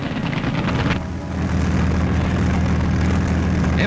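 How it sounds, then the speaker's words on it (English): Propeller aeroplane engines in 1944 wartime newsreel footage drone in a thick, steady roar that swells slightly, loud and continuous with no speech over it. "the sound of aeroplane engines filled the air."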